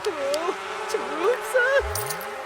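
Bees buzzing in The Sims 4, a wavering insect drone mixed with chirpy, gliding game tones and a faint voice, steady and moderately loud for the whole stretch.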